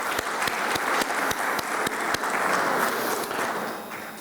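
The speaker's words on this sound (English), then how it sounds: "I would like to give a very loud round of applause to our female staff, students, alumni, and female guests" A university celebration crowd gives a loud round of applause for female staff, students, alumni and guests, dense clapping with sharp individual claps throughout, tapering off slightly at the end.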